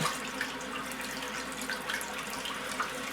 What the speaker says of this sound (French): on va tout simplement remplir notre évier ou le lavabo d'eau chaude